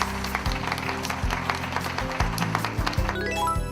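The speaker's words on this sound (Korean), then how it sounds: "우리 학생들에게 뜨거운 응원과 격려의 박수를" A high school contest audience breaks into sustained applause, a dense, continuous wash of many hands clapping at close range with steady loudness throughout.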